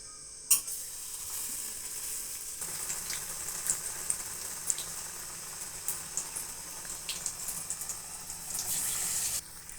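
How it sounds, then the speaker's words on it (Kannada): Batter-coated capsicum bondas fry in hot oil with a continuous close sizzle and fine crackling, opened by a sharp clatter as they drop into the oil. "ಈ ಕಾದಿರೋ ಎಣ್ಣೆಯಲ್ಲಿ ಹಾಕಬೇಕು"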